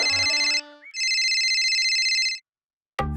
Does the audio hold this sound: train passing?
no